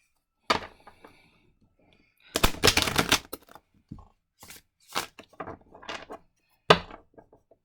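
Tarot cards are shuffled in a series of quick riffling bursts with sharp taps and thumps between them, close and crisp against a quiet room.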